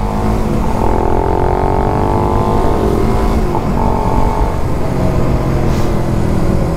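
A Suzuki Raider motorcycle engine roars loudly and continuously up close, its pitch rising and falling as it revs, with no pauses, while the bike smokes.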